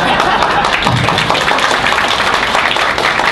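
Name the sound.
audience applause at a debate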